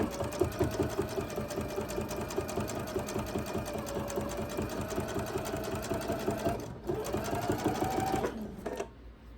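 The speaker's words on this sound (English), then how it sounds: "now we're going to sew again 1/4 of an inch down this side" A sewing machine stitching quilt binding a quarter inch from the edge runs in a fast, steady mechanical chatter for several seconds, pauses briefly, then resumes before stopping, close and clear.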